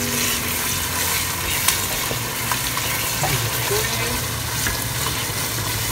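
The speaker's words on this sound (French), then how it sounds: "Je vais touiller." Jollof rice sauce with crushed Knorr vegetable cube bubbles and sizzles steadily in a pot while being stirred, a constant frying hiss with occasional soft scraping clicks.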